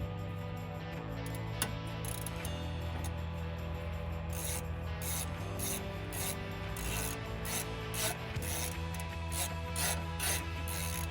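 A wrench works on a steering part of a 1997-2006 Jeep Wrangler TJ, giving quiet, steady ratcheting and rubbing metal sounds with a regular clicking rhythm over a low background hum, close up and without talk.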